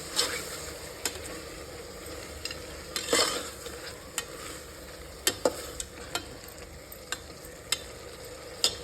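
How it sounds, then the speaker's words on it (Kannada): Chopped tomatoes frying in a pan for mushroom biryani, a gentle steady sizzle punctuated by regular crisp clicks and scrapes of a spoon stirring, close and moderately quiet with no one speaking. "ಟೊಮೊಟೊ ಮತ್ತು ಎರಡು ಫ್ರೈ ಆಗುತ್ತೆ."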